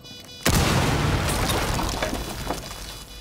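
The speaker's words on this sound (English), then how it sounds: "Prep a breaching charge." A breaching charge detonates in a cooperative terrorist-hunt shooter game, a sudden loud blast followed by a long rumbling, debris-filled decay with scattered crackles.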